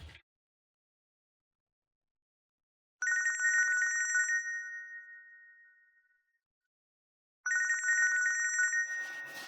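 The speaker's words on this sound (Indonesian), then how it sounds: "Oh nih ya telepon." A telephone rings in an indoor TV drama scene with two ring bursts separated by silence, clear and close, with no talking over it.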